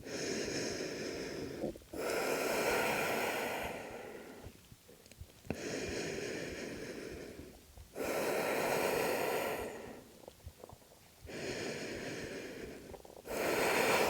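Three long, deep breaths taken in a yoga child's pose, each a slow, loud, close inhale and exhale with brief pauses between, heard alone without talking.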